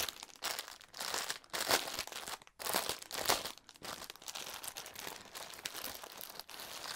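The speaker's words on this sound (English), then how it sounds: "And I'm sorry about the crinkling." Cross-stitch kit packaging crinkles close up in irregular rustling bursts and crackles, fairly quiet and continuous with brief pauses, and no talking over it.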